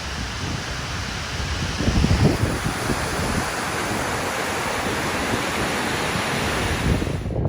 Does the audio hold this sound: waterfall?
yes